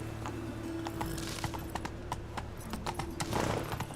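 Galloping horse hooves from a video game, a steady run of sharp clip-clop strikes over a continuous game soundscape, with a brief whinny-like sound near the end.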